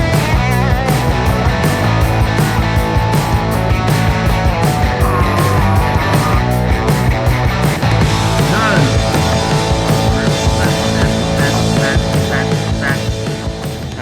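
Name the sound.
electric guitar solo and backing track, Logic amp sims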